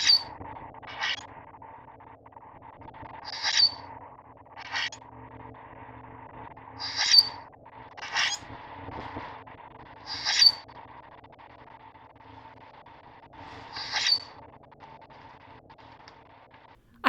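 A common grackle in a backyard gives a series of about eight short, squeaky, creaking calls during its puffing display, spaced a second or two apart against quiet background hum.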